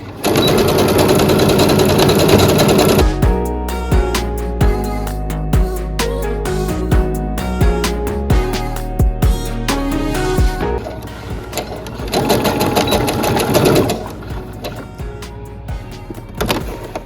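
A sewing machine stitches a ruffle top in a circle with a loud, close, rapid mechanical whir and clatter, running in bursts with brief stops between.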